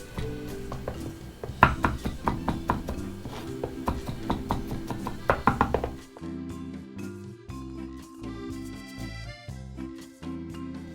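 Vegetables crushed on a cutting board in a home kitchen, a run of sharp, close knocks and crunches in quick irregular bursts, followed by softer, sparser thumps over steady tonal background music.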